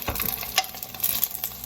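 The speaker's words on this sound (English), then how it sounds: "I'm not getting anywhere with frying these." Food fries in a pan with crackly sizzling and scraping from a potato peeler used as a utensil, close and fairly loud, with no talk.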